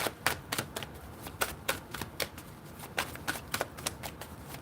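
A deck of tarot cards being shuffled by hand in rapid, crisp riffling bursts, close and clear with no talking.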